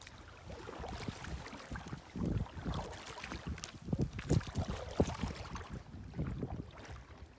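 A boat pushes against the wind through waves near Bates Island, with irregular slaps and thumps of water on the hull under gusty wind buffeting.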